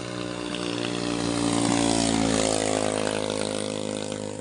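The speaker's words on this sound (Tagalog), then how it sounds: "napakalakas ng tunog ng andar ng makina mo guys" A loud motorcycle engine, a Suzuki Raider, drones steadily, swelling as it revs higher in the middle before easing back, its buzzing tone holding throughout.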